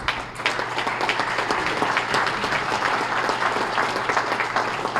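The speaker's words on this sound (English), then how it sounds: "give the Burrows a round of applause" An audience at a small business awards breakfast gives a sustained round of applause, dense and even clapping from a crowd of more than a hundred people in a room.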